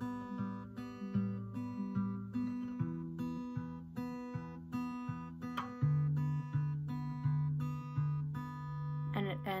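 Acoustic guitar picks two notes back and forth in a steady, even rhythm, each pluck ringing out, ending with a brief slide.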